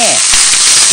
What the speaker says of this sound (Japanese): ごま油を熱します。 そしてね小松菜をどんと入れて